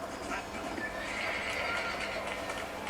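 A horse in the Red Dead Redemption video game neighs in a bright, wavering whinny with clip-clop hooves and steady game ambience behind it, while a French-speaking player talks over the sound.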